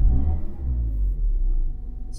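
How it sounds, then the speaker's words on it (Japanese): A new Mazda Roadster's engine fires up nearby, a deep rumble that swells and settles into a low, uneven idle over a couple of seconds. "エンジンかけるところから行きますよ。"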